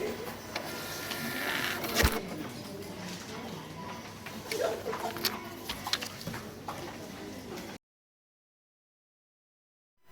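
A POS receipt printer whirs and chatters in uneven mechanical bursts while being switched on with the feed button held, with faint clicks and background noise, then stops abruptly into silence.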